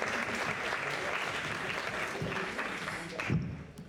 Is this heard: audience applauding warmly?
yes